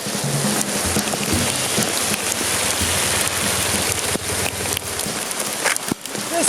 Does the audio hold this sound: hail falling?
yes